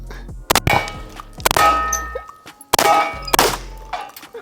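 Several loud, sharp blasts from a budget Panzer SCR XII Pro shotgun ring out close by, each leaving a brief metallic ringing tail, with pauses between shots.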